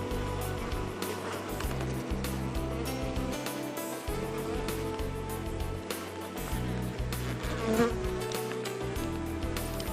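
Dense, continuous buzzing of many honey bees flying at a hive in early morning in Russia, a droning hum with individual insects zipping past.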